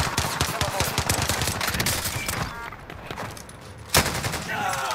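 Loud, rapid automatic gunfire in the shooter game Modern Warfare, dense bursts with a brief lull and a sharp blast near the end, voices faintly under it.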